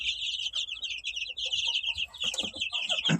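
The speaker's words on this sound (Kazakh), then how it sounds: "Так, мына жақта бізде балапандар." A crowd of 15-day-old chicks peep continuously in high, rapid chirps, close by and fairly loud, with faint low rustling beneath.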